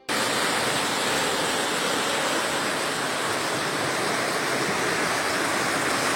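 Brahmaputra floodwater in Majuli rushes past a riverside house less than a metre from the bank, a loud, continuous, unbroken roar of churning water that holds steady throughout.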